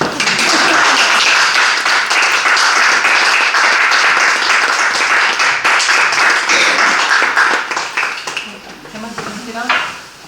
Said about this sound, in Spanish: le damos un aplauso, ¿no?